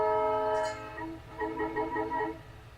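Western Pacific locomotive in the Run8 train simulator game sounding a multi-chime horn, a loud sustained blast followed by a shorter pulsing second sounding.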